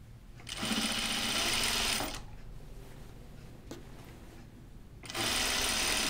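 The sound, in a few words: sewing machine sewing a caftan neckline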